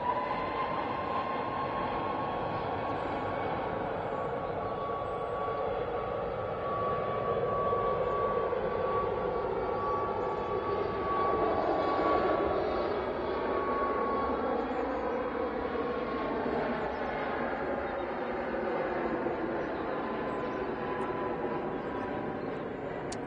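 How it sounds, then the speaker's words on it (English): Boeing 737 Max airliner departing Manchester Airport, a steady, moderately distant jet roar that swells slightly and fades over about twenty seconds, with no talk. "So we have this 737-8200 now departing."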